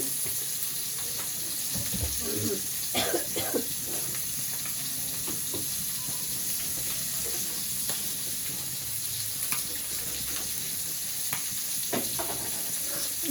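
Oil crackles and sizzles in a pan for frying rice, a continuous hiss broken by a few sharper pops and stirring scrapes near the start, heard close and alone without talk.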